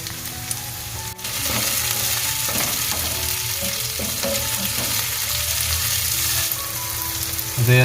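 Chopped tomatoes go into browned onion in a hot pan and set off a sudden loud, continuous sizzle that stays strong and close for several seconds, then eases slightly near the end.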